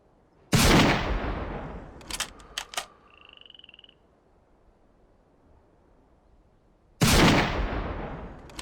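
Gunshots in the dinosaur hunting video game Carnivores, two loud booming rifle shots with long decaying tails several seconds apart, separated by a few short clicks and a brief electronic tone, with no speech.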